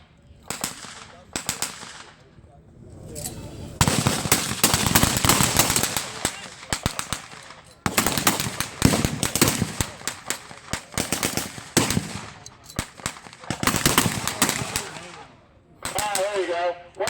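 A WWII battle re-enactment at the Indiana Military Museum, with German soldiers throwing mock potato-masher grenades. Rapid rifle and machine-gun fire comes in loud, dense bursts with sharp pops, and someone commentates between the volleys.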